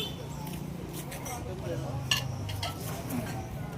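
Glass cups, plates, saucers and cutlery clink and rattle as they are handled and sorted, scattered light chinks and knocks over a low background hum, with a sharper clink near the middle.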